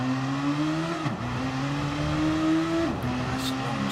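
A Classic DTM race car in a racing video game brakes hard into a hairpin at Deep Forest, its steady engine drone dropping sharply through two downshifts before revving back up.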